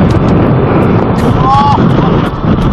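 Strong wind buffets the microphone outdoors near water in a steady, loud, rumbling roar that persists for the whole stretch, with a faint thin whistle briefly rising through it.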